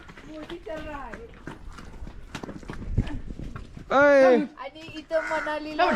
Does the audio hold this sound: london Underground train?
no